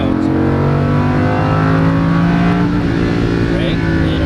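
A Lamborghini Huracan race car accelerates on a track, its engine note loud and close, climbing steadily through the revs in a continuous roar with no break.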